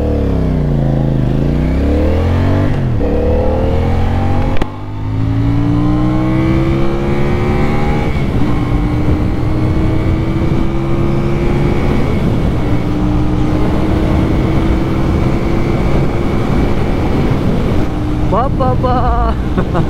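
A CFMOTO 450CL-C motorcycle accelerates hard from a standstill to 100 km/h, its engine revving up through several gears in repeated climbing sweeps, loud and close throughout, with some speech around it.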